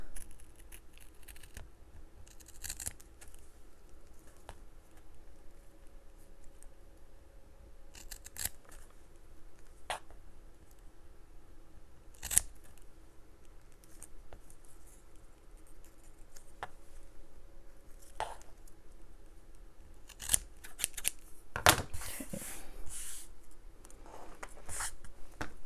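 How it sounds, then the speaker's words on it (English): Scissors trimming craft material, giving faint, scattered snips and sharp clicks with quiet handling rustle between them, a few louder cuts standing out, with no talk. "I'm going to trim these off so that they're pretty close to the same length."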